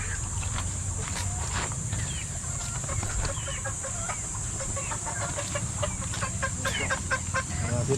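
Chickens cluck and call around a breeder's farm in the Philippines, a dense, steady flock chorus with scattered sharper squawks over a constant low rumble and a high steady hiss, no one speaking.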